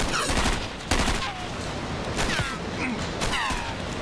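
Rapid bursts of gunfire from a retro shooter video game, loud and nearly continuous with sharp repeated shots overlapping.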